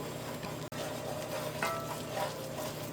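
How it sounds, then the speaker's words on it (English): Flour being stirred quickly into melted butter in a pan for a baked mac and cheese roux, a steady soft scraping and faint sizzle running throughout, with one brief sharp click near the start. "now you're gonna add your flour and then stir this quickly"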